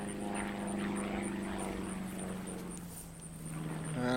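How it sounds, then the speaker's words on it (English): A propeller plane drones steadily overhead in an outdoor park, its engine hum continuous and moderately distant, fairly loud throughout. "And I can still hear that plane."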